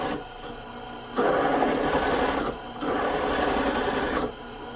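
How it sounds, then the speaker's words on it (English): An end mill cutting metal on a milling machine, hogging out excess material with oil applied, a loud steady grinding hum in two long sustained passes separated by brief quieter gaps, close and continuous. "I'm just hogging out the extra material with an end mill"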